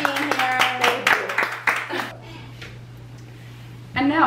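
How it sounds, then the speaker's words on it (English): An audience bursts into a short round of clapping with a voice calling over it, then the applause stops and a low hum remains until speech resumes near the end. "Round of applause"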